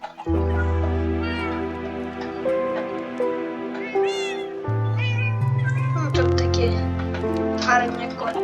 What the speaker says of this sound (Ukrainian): Ось тут котики.